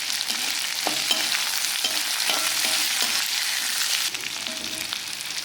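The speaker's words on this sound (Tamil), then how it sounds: "இப்போ எண்ணெயிலே நல்லா வதங்கணும்" Chana dal and onion, with banana flower, sizzle steadily in hot oil for a chutney, with a constant loud fry and several soft stirring scrapes of a spoon in the pan.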